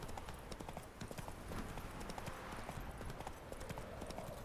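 Horse hooves clip-clop steadily in Witcher 3 as a horse moves along, a dense, continuous patter of hoof strikes that fills the whole stretch with no pause.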